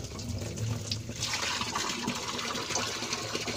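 Rainwater transferred from an underground cistern by a small 12V pump: a steady, close rush of flowing water splashing into a container, continuous and fairly loud with no talking.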